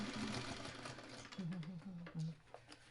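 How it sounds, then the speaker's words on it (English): A sewing machine stitches a quilt block in short bursts of rapid mechanical whirring, starting and stopping. It is fairly quiet and close, with background noise between the runs. "we want to sew from this edge out."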